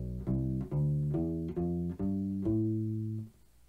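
U-bass plucked in a short Locrian groove, about six deep rubbery notes in an even rhythm with one held note at the end, close and fairly quiet with no voice.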